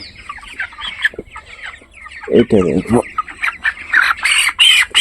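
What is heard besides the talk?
chicken clucking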